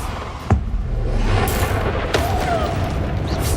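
A Bombarda blasting spell explodes in Hogwarts Legacy with a sharp boom, followed by a second burst amid a dense, rumbling wash of game noise.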